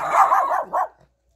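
A dog barks at close range in Mazatlán, Sinaloa, Mexico: a short, loud run of yelping barks with one final bark before it goes quiet.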